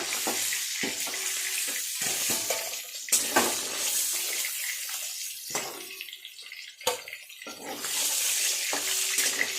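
Pieces of katla fish frying in hot oil in a pan, giving a loud, crackling sizzle that comes in bursts with short quieter gaps between them. No one speaks.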